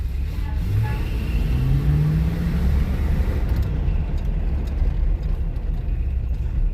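A 1978 Corvette 25th Anniversary Edition on a road test, its engine a steady, loud rumble from inside the cabin that swells briefly as it accelerates, with road noise throughout.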